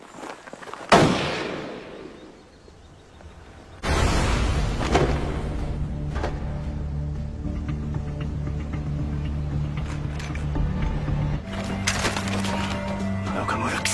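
A sharp burst at the start, then a loud sustained din of crackling, cracking impacts and rumble over a droning background, like heavy gunfire in a dramatic scene.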